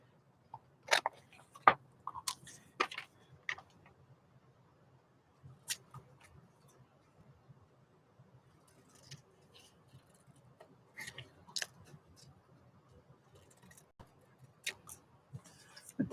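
Scissors snip strips out of dotted paper in a quiet room, giving sparse short crisp cuts in small irregular clusters, close but soft.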